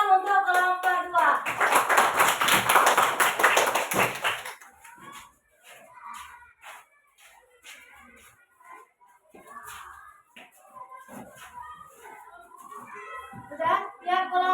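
Students in a classroom clap for a group in a dense, loud burst of about three seconds, then the room drops to quiet with children's voices and small noises.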